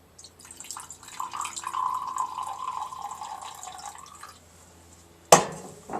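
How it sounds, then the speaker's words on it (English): Deionized water being poured into a lab sample for an iron test on a phosphate bath, a soft steady trickling pour lasting a few seconds, then a sharp clink at the end. "We'll add 50 ml of deionized water."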